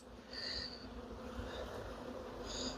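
Honey bees buzz steadily around an open hive during an inspection of brood frames, a close, continuous drone with no talk.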